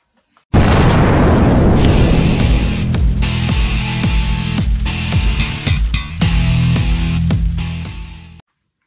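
A rocket launch sound effect bursts in loud after a moment of silence, a booming roar with crackling rumble that holds steady for about eight seconds before cutting off abruptly, with no talking.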